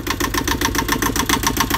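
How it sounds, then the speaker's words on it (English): A boat's main diesel engine idles in steady rapid pulses right after starting, loud and close with an even chugging rhythm and no voices. "see if I can get this bad boy started, my main engine"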